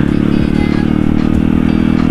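A motorcycle engine held at high revs, a loud, close, buzzing drone with a steady throbbing pulse and some rattling clatter throughout, with no talking.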